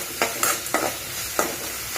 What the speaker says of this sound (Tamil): வெங்காயம் வணங்குறதுக்கு கொஞ்சம் உப்பு போட்டுக்கோங்க